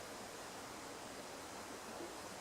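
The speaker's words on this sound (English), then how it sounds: "I'm left with only the sound of a river" A faint, steady wash of flowing river water in the woods, continuous and even, with no voices or other sounds standing out.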